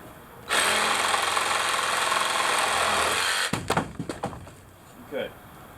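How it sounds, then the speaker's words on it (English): A power saw cuts through a 2x4 wooden board during an Amish barn restoration, one loud sustained whine lasting about three seconds, followed by several short knocks and clatters as the wood drops away. "I'm just cutting this 2x4."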